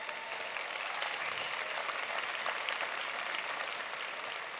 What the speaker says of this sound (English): I want to start with giving a big round of applause for our team actually